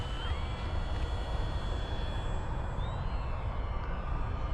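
An FMS P-47 radio-controlled model airplane, 1.5 m span, on landing approach with throttle cut back; its engine gives a faint, steady whine with shifting pitch over constant wind rumble.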